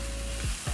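Onions frying in a pan with oregano and thyme, a soft continuous sizzle with a couple of brief stirring scrapes near the end.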